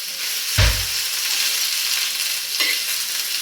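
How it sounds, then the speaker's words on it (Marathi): Bottle gourd peels hit a hot pan with a thump, then a bright, steady sizzle continues, with a second stir-like scrape near the end. "ही साल आधी सुरुवातीला या तव्यामध्ये घालून आपल्याला परतून घ्यायची आहे"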